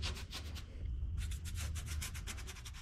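A brush scrubs rust converter onto the metal bed of an off-road truck, giving a quick rhythmic series of close, soft bristly strokes with a short pause midway.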